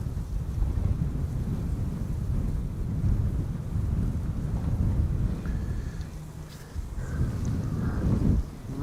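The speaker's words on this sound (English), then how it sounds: "Right, wind is picking up a little bit. Chilly breeze" Wind gusts buffet the microphone at Amsterdam Schiphol Airport on a chilly January day, a steady loud rumbling roar that swells and eases over several seconds with no talking.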